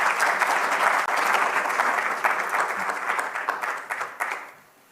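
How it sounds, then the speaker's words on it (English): A conference audience at a sustainable industrial spaces event in South Africa applauds panelists, a steady wash of clapping from many hands that holds strong for several seconds and then thins out into scattered claps. "A round of applause for our panelists."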